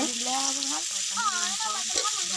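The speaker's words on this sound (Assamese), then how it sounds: "পিঁয়াজখিনি ৰঙা হোৱালৈকে ভাজি আছে।" Oil sizzles steadily as onions fry in a pan, a constant crackle beneath a person talking.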